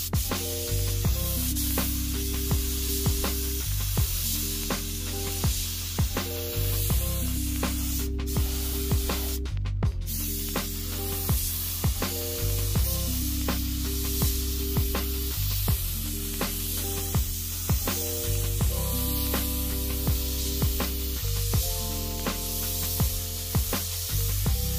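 Spray gun applying Rustoleum semi-gloss black paint thinned with acetone, a steady hiss repeated in short bursts over several passes, with background music playing underneath and no talking.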